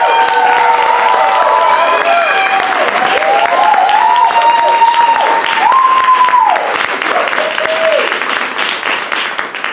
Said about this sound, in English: join me in giving a huge round of applause to Shelby Barrett.